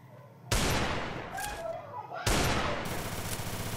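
Gunfire in the mobile battle-royale game Free Fire, two loud sudden bursts of shooting with sustained rattling noise after each, close and dominating the mix.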